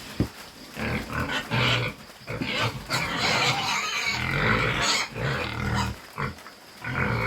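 Pigs grunt, squeal and snort continuously, several animals close together and loud.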